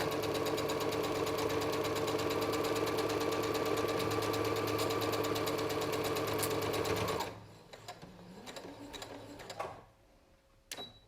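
A sewing machine stitches the final seam of a pocket face mask, a steady fast whirring run lasting about seven seconds before stopping, followed by quiet handling and small clicks.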